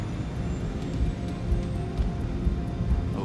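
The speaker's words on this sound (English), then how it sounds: "The 747 accelerates towards takeoff speed, 290 kilometers an hour." Boeing 747 jet engines of Singapore Airlines Flight 006 accelerate at takeoff thrust down a runway, a steady, loud, dense roar with a low rumble and slight surges.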